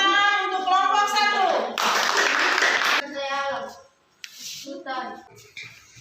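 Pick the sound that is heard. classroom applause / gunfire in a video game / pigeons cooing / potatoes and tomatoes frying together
classroom applause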